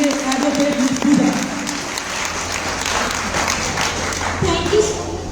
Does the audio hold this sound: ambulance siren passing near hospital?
no